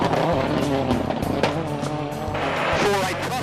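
A rally car tearing along a gravel stage at full rally speed in Ireland, with a loud, close engine roar and crunching, hissing tyre and gravel noise running continuously throughout.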